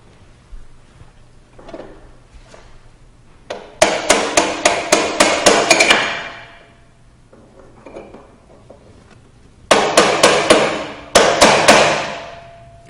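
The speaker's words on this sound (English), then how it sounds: "Now let's tighten the lock ring so the preload adjuster can't back off while you ride the bike." Sharp metallic hammer-like strikes come from tightening the lock ring that holds the spring preload adjuster on a motorcycle rear shock. Two close bursts of about eight rapid, loud, ringing blows are separated by quieter handling noises.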